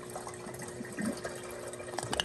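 A fully functional miniature toilet flushes with a nearly empty tank and siphons, giving a close, continuous trickling and gurgling of water that swells briefly midway and ends with a few splashy bursts.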